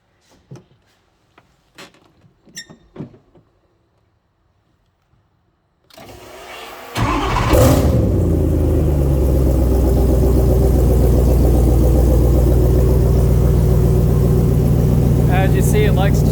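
A supercharged LT4 V8 in an SL-C kit car fires up after a few quiet clicks and handling sounds, catching with a brief loud rev and then settling into a steady, deep, rumbling idle that holds close and loud.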